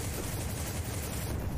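Rapid hip-fired gunshots in the mobile shooter War After, a dense, steady barrage of loud close shots running without a break.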